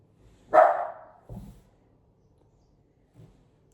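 One loud dog bark, then a quicker lower woof, and a faint third bark after a pause, all coming from somewhat far off.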